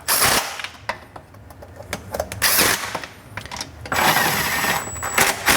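A power tool zapping down injector rail bolts on a BMW N54/N55 engine: several quick, loud bursts of ratcheting impact rattle broken by short pauses, close to the listener.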